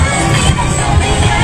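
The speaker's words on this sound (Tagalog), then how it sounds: "Crowd!" Crowd noise at an LGBTQ pride parade in Las Piñas: a dense, steady roar of many voices with cheering and children's shouts, loud and continuous throughout.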